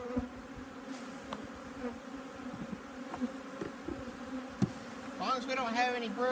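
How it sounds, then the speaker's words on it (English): Honey bees being shaken out of a beehive while it is being winterized make a steady close buzzing hum, with a few soft knocks, and a voice joins in near the end. "it'll look a little messy as we shake these bees into there"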